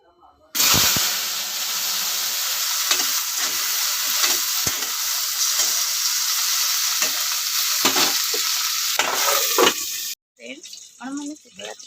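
Okra curry sizzles and crackles loudly in a hot pan while a utensil stirs and scrapes, with the frying cutting off abruptly near the end before a voice speaks.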